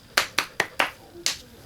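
A single person clapping their hands six times in an uneven rhythm, with a slight pause before the last two claps. The claps are sharp, close and loud, with no talking.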